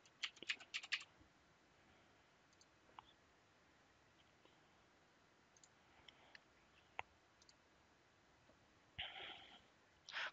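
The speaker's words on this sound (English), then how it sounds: "we're going to type in the username." Computer keyboard typing at a desk, with quick bursts of clicking keystrokes at the start and again near the end and scattered single taps in between, close and fairly quiet, with no talking.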